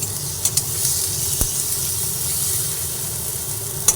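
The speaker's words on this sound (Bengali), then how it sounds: "একসঙ্গে আবার ভেজে নিচ্ছি গ্যাসের ফ্লেমটা একটু কমিয়ে নিয়ে" Egg curry ingredients fry together in a pan over a lowered gas flame, giving a steady close sizzle and hiss with a few sharp utensil taps.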